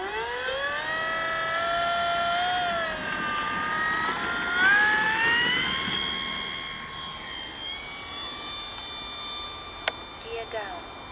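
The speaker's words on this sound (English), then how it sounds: "Maiden flight attempt 2 of the Dynam Mark 1A HAWKER Hurricane version 2." A Dynam Mark 1A Hawker Hurricane RC model warbird on its second maiden-flight attempt takes off, its electric motor whine rising steadily in pitch and then easing as the plane moves away, with a sharp click near the end.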